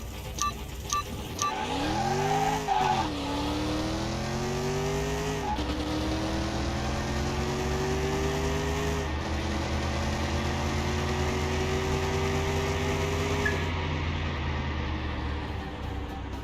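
A Ford Coyote V8 in Car Mechanic Simulator 2021 revs hard after a brief tire squeal, climbing through several gear shifts with a sustained loud engine whine that drops back on each upshift, then fades at the end.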